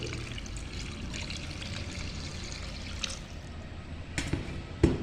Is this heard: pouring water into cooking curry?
yes